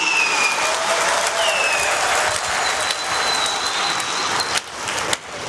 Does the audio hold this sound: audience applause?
yes